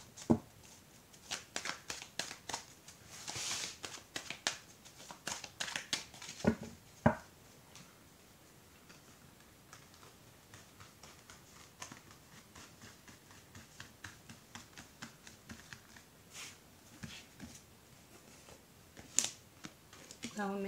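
Tarot cards are shuffled and laid out on a table, with soft riffling bursts followed by scattered, quiet taps and slides as cards are placed one by one, close and faint, with someone speaking at times.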